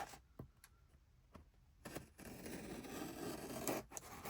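A knife slices through heavily taped packaging, with scattered sharp scratchy cuts and scraping, then a denser rasp of tape and cardboard being torn open up close.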